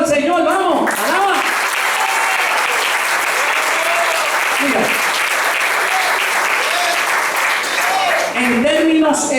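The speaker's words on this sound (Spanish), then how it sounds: "Dale ese aplauso al Señor" A church congregation applauds steadily and loudly throughout, a dense sustained clapping with crowd noise, while a preacher's voice speaks briefly over it.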